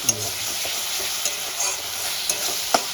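Ginger, garlic and green chili paste fries and sizzles in hot oil while a spoon stirs it, giving a steady close hiss with a few scraping clicks of the utensil against the pan.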